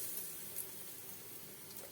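Steady, quiet sizzling of lentil fritters (dal vada) frying in hot oil in a kadai, a continuous crackling hiss with a few soft pops, no voices.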